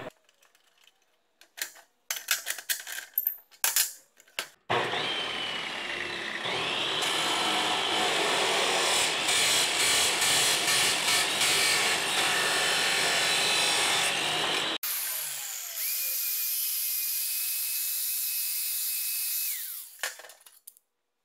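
A high-speed chop saw fitted with an angle jig cuts through stock, its loud steady whine running for about ten seconds, dropping briefly, then continuing for several more seconds before spinning down, with clatter of setup before it.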